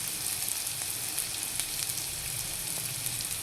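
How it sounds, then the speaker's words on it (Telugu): Chili powder sizzles and fries in a pan with ginger-garlic paste for a bitter gourd curry, a steady soft crackling hiss with faint scattered pops and no talk. "కొంచెం ఒక 2 నిమిషాలు అలా వేయించి అండి"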